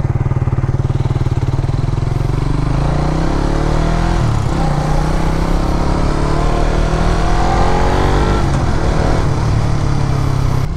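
A 2022 Suzuki Raider 150 FI motorcycle pulls away in first gear, its engine revving loud and close with a steady rising drone throughout.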